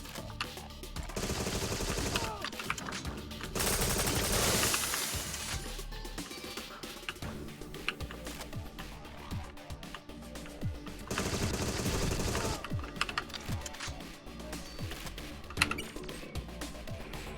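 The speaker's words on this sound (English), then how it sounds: "Stop shooting me." Rapid gunfire in the video game Agent 64: Spies Never Die, bursts of automatic shots and single cracks firing repeatedly, with loud sustained volleys separated by quieter stretches, close and dominant.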